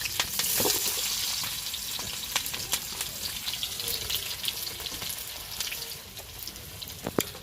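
Chilies and onion fry in hot oil on a wood-fired chulha with an airy, crackling sizzle and scattered sharp pops, close and steady and easing slightly near the end, with no one talking.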